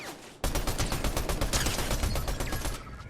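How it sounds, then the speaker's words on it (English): Rapid automatic gunfire in Fortnite, a dense, loud stream of shots that starts abruptly and rattles on steadily for almost three seconds before cutting off. "Now someone else is shooting at me."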